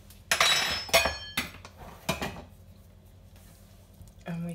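Metal utensil clinking against a dish while pasta bake ingredients are stirred together, several sharp bright clinks in the first half followed by quieter scraping and a brief low thud at the end.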